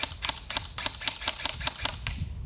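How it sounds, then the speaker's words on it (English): Enforcer Night Wing Alpha Skeleton airsoft gun firing a rapid burst of about eight crisp, evenly spaced zipping shots, close and loud with no talking. "this one has a nice sounding crisp zip, zip, zip every time"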